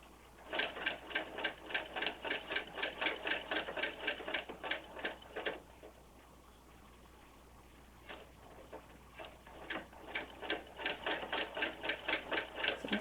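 A sewing machine fitted with a spoon-shaped hemmer foot stitching a double-fold hem, heard as a faint, rapid ticking of needle strokes in two runs separated by a brief quiet pause with a few isolated stitches.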